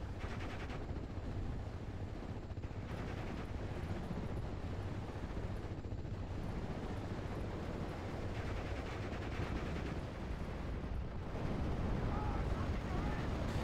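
An MG42 machine gun rattles in bursts during a Normandy 1944 battle in Steel Division, mixed with distant explosions and rumbling gunfire, with a voice talking over it.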